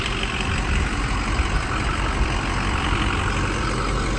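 A 2005 Ford F-250 Lariat diesel pickup idles up close, a loud, steady, rumbling engine drone with a rough low throb and a breathy exhaust hiss, no voices over it.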